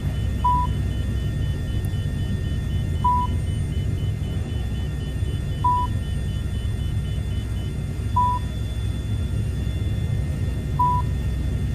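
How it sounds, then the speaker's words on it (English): A short warning beep repeats at a steady interval of about two and a half seconds over a constant engine rumble in a Microsoft Flight Simulator cockpit, with no talk. "You hear that beep, beep, beep?"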